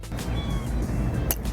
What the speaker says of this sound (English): But problem is, there's cats.